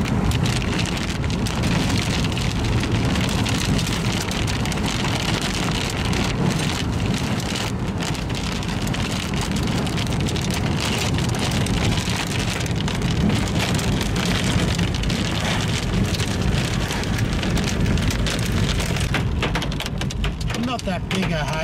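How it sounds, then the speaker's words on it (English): Small fingernail-size hail and heavy rain pelt down during a thunderstorm at Windellama, a dense, steady hiss and patter lasting throughout, with voices now and then beneath the downpour. "Just small fingernail size hail at the moment."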